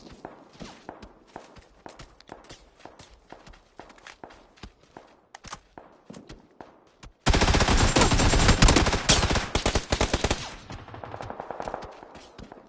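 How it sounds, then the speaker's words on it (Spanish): Loud sustained burst of rapid automatic gunfire in a video game, lasting several seconds after a stretch of steady in-game footsteps, then trailing into quieter shots. "Me van poniendo nerviosos los tiros"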